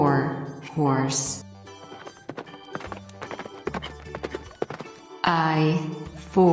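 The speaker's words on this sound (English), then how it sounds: "H for horse." Rhythmic horse hooves clip-clop in a bright sing-along nursery song, a steady tapping pattern running under loud sung voices and music throughout.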